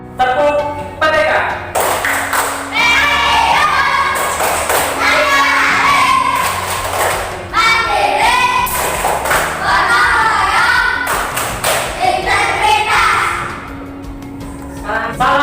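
A primary school class standing and performing a rhythmic clapping chant: bursts of unison claps and thuds alternate with children's voices chanting together, loud and close in a classroom.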